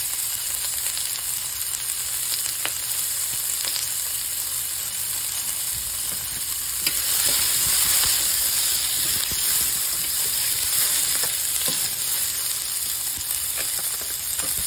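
Chopped onion and garlic sizzling steadily in a skillet while being stirred, a loud continuous frying hiss with light scraping and clicks from the stirring, no voices.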